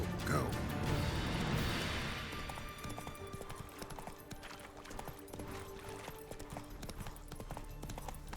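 Roach the horse gallops in a video game, a steady drumming of hooves with rhythmic clip-clop over a dense, noisy game soundscape, with no voices.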